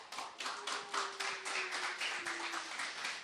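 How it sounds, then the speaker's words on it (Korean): A small gathering of youth teachers at a church training session claps for a pastor's greeting, with sparse, fairly close individual claps in an uneven rhythm. "인사할 때 그래도 박수 쳐주시면 고맙겠습니다"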